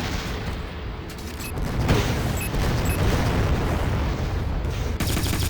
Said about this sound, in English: throwing a few grenades off at the Tonka flag stand